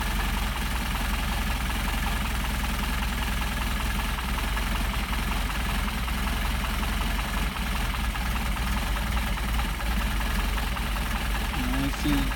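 A Mercedes 190SL engine with Solex carburetors idles steadily during idle mixture adjustment, a constant low rumbling drone with a faint rhythmic knock, close and unchanging, with someone talking over it.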